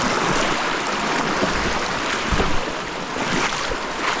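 Rushing river water at a river crossing on a remote wild-trout stream far from Melbourne, a steady broadband wash with no voices, close and fairly loud throughout.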